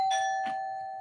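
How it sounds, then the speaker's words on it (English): A doorbell rings once with a clear two-tone ding-dong chime, bright and ringing, fading away over about a second with nothing else heard. "Speaking of doors. Doorbell."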